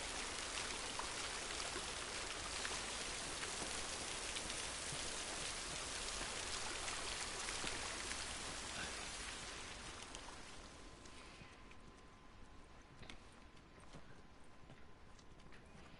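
Steady, dense rain hiss in the video game The Last of Us fills the scene, then eases and grows quieter and more distant partway through, leaving a softer patter.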